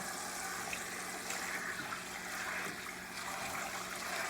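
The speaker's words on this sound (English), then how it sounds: "I am rinsing them" Tap water runs steadily over fresh collard greens being rinsed, a constant broadband splash and gush, close and fairly loud, with no talk.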